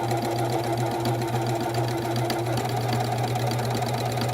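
A sewing machine runs steadily as quilt fabric for a pinwheel quilt is sewn off the edge, a continuous close whirring drone with a rapid mechanical chatter and no voices.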